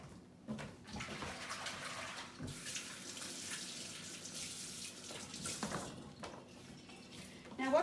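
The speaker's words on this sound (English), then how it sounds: "Now, just bear with me while I wash my hands." Running tap water flows steadily into a sink as hands are washed during baking of meat pies, a continuous splashing hiss with brief shifts in the stream and a faint clunk at the end.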